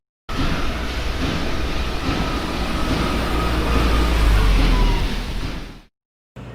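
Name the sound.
sounds from factories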